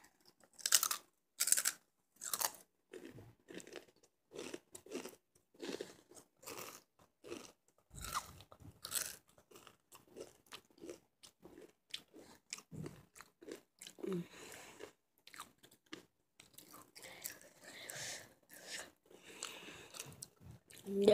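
Pizza being chewed and crunched nearby, a steady run of crisp bites and mouth noises with uneven rhythm, no talking over it.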